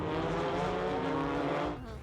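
Japanese Grand Touring race cars being rolled out, a loud dense engine roar with layered tones from several cars that fades slightly near the end.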